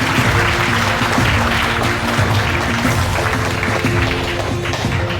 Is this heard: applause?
yes